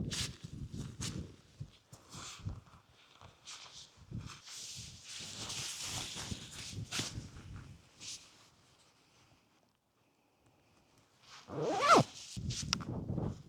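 Outdoors on a breezy Peak District hillside, a coat is rustled on and its zipper is pulled in several quick rasping strokes, followed by a pause and another sharp zip with fabric rustle, all close and without speech.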